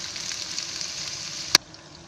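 Prawns deep frying in hot oil: a steady, close hiss of bubbling oil throughout, broken by one sharp click near the end, with no talking.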